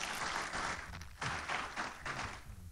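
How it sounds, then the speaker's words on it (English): A conference audience claps for a speaker, a steady patter of many hands at moderate distance that swells and dips in a few waves over a few seconds. "One more round of applause for her, please."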